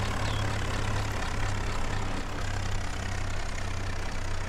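Tractor engine in Farming Simulator 19 on an Indian rice-harvesting map, a steady low droning idle that holds at constant loudness throughout, with no talk over it.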